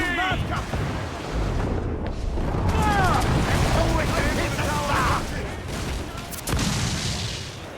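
Cannon fire rumbles through a naval battle in Assassin's Creed Black Flag, with booming blasts and crackling bursts layered under constant shouted commands from the crew.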